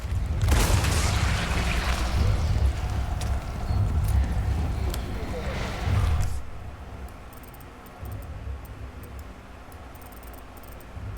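Explosions in the video game Resident Evil 4: several loud, booming blasts with deep low rumble over the first six seconds, then the game sound drops to a quieter, steady background ambience with light ticking.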